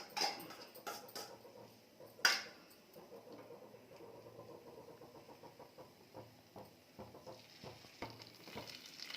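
Two eggs fry on a dosa on a hot griddle, giving a faint, steady sizzle with a few sharp clinks of a utensil near the start.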